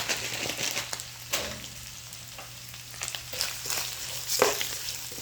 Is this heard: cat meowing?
no